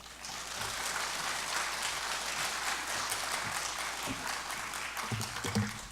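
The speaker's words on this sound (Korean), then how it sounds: "이 시간 우리 선교사님 모실 때 뜨겁게 환영의 박수로 모시겠습니다." A church congregation applauding to welcome a missionary, a steady broad wash of many hands clapping that holds for several seconds, with a few louder claps near the end.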